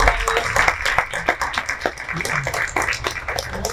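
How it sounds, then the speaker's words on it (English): Audience at a networking masterclass applauding as panelists come up to the stage, dense continuous clapping, fairly loud and sustained throughout. "round of applause. Come on up."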